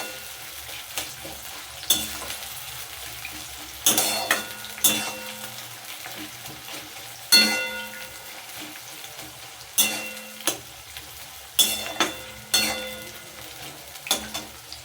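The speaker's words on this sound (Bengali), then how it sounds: "দেখুন পেঁয়াজটা যখন এরকম ভাজা হয়ে নরম হয়ে আসবে" Onions fry in a pan while being stirred, cooking the base for a potato curry. A steady sizzle runs throughout, broken by regular scraping strokes, with no voices.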